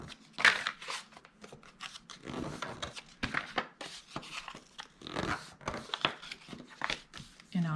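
The paper top of a handmade pedestal box is folded over by hand, making close crinkling, creasing and rustling paper sounds in short uneven bursts throughout.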